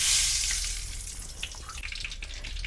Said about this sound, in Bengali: কড়াটা গরম হয়ে গেছে তেল দিয়ে দিচ্ছি